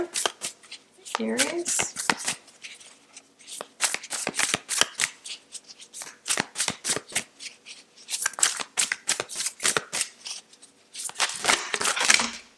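A Moonchild tarot deck being shuffled up close, with rapid crisp card riffles and flicks in bursts and short pauses between them, while a voice talks briefly over the shuffling.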